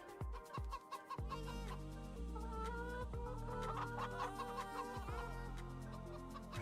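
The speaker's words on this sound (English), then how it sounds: "hopefully take care of these chickens. I've got 360 of them." Synthetic-sounding chicken clucks and squawks from a large flock of 360 chickens in Farming Simulator 25 overlap against a constant droning backdrop, busy and repetitive, with no voices.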